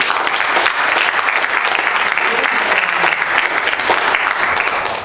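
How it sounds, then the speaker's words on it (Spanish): A church congregation breaks into applause during a Spanish-language sermon, a loud, continuous wash of clapping from many hands that stays even throughout. "¿Puede dar el aplauso?"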